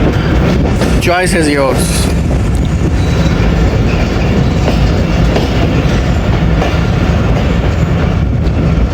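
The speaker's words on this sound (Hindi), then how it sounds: "अप्रोच बना रही है हमारी 8 टाउन तेज़गाम कोटरी जंक्शन पे" Tezgam express train rolling in toward Kotri Junction, a steady rumble with clattering wheels and a brief squeal of metal near the start, with a person talking over it.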